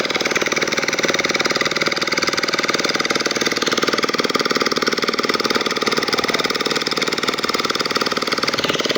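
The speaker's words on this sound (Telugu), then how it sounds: "ఈ బోటు ఇంజిన్ మాత్రం మామూలు సౌండ్ చేయదు" A fishing boat engine at Mangamaripeta beach runs loud and steady, a constant droning rumble with a fast regular chug throughout, close by and unbroken.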